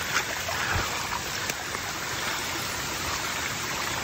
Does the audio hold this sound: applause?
no